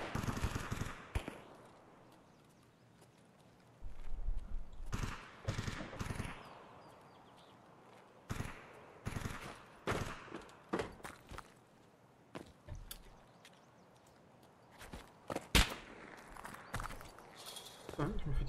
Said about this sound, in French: je me fais tirer par le snipe